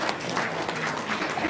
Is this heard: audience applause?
yes